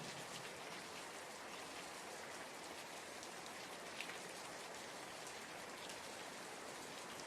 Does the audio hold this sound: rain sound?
yes